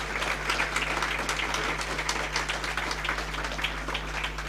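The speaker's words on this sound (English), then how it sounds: "join me in applauding Paul and his team for an exciting work" An audience at a university faculty launch gives steady, continuous applause, a dense wash of many hands clapping at moderate level under a low electrical hum.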